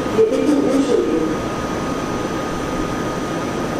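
A train rumbles out of Stuttgart main station on platform 10, a low steady rolling noise with a brief tonal swell early on, heard at a moderate distance.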